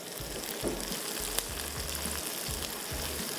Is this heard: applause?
no